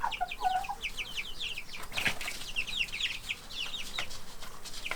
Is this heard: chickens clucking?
yes